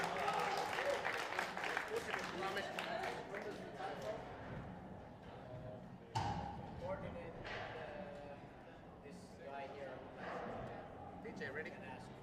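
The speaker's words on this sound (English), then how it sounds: "Let's have a big round of applause for the Danish champion" A crowd at the 2024 Nordic Street Workout Championship applauds the Danish champion: dense, sustained clapping with cheers, and an announcer's voice talking over it.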